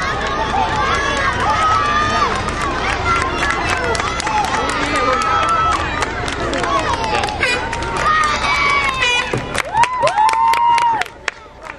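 Spectators cheer and applaud as boats reach the finish line of a rowing race, with Galician and other crews in the final strokes; a loud, dense crowd roar with shouts and babble continues throughout, swelling near the end.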